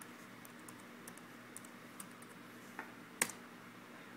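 Quiet, scattered keystrokes on a computer keyboard, soft separate clicks spaced irregularly, with one sharper louder tap near the end, close by and alone.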